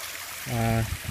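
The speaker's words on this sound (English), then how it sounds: "the pump over there sends it over to the waterfall" Water from a pump-fed waterfall pours into a duck pond with a steady, close rush and splash, and a short voice cuts in briefly partway through.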